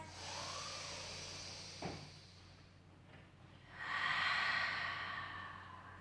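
A Pilates participant takes slow, audible breaths near the microphone during a gentle strength and flexibility exercise: a soft inhale, a brief sharp sniff, then a longer breathy exhale.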